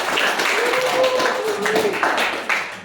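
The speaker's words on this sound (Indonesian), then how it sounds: "Tepuk tangan buat Farhan." A school class clapping for a student named Farhan during a lesson, a brisk burst of many hands in a classroom, fairly close and steady with faint voices mixed in.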